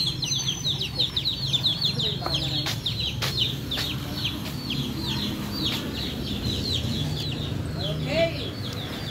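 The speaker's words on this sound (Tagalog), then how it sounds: "Dami yung manok ko na yan." Chickens cluck and chatter in a busy flock at close range, a steady stream of clucks and short calls over a low rumble of farmyard background and faint voices.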